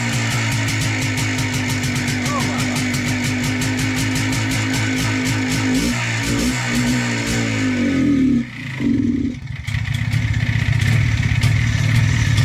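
An MZ TS 250 motorcycle engine with blown seals and an air leak runs loudly and steadily with a rattling, clattering idle. It falters briefly near the end, then carries on close to the listener with no talking.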